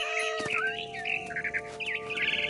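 A mother bird chirping in the video game What Remains of Edith Finch, a run of clear warbling calls and tweets over a steady droning ambient tone, fairly close and loud, with no talk.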